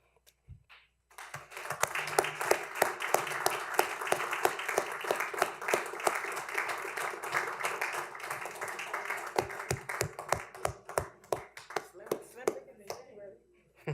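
An audience at a community college district board meeting applauding for award recipients, a dense spread of clapping that swells, holds for about ten seconds and thins into scattered claps.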